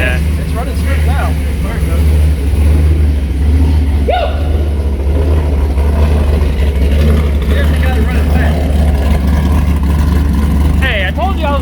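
A Pontiac G8 engine runs steadily at a smooth, loud, constant hum close by, with brief talk over it.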